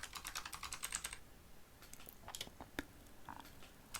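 Quick bursts of typing on a computer keyboard while running a Unix text command, a dense flurry of clicks at first, then scattered individual keystrokes, close and fairly quiet.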